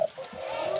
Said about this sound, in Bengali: এই দেখেন, এই পাখিটা ডাকতেছে